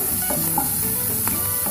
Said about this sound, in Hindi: तेल गर्म हो गया। इसमें सबसे पहले मैं डालूंगी प्याज